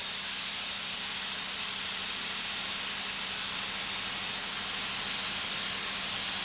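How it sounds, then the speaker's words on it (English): A field autoclave, set to fast exhaust, vents a jet of steam from its top as chamber pressure is released: a loud, continuous, broadband hiss that holds steady throughout with no talk. "we turn this unit all the way around to fast exhaust, and then you can see the jet of steam coming out the top."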